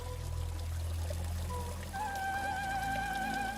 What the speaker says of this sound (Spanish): Agua natural sobre piedra tallada y brillante.